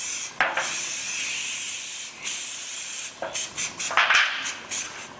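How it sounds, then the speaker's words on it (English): Several bursts of oil spray hiss onto pie bases, a couple of longer sprays followed by a rapid run of short puffs, close by with no talking. "I'm just going to spray them all down"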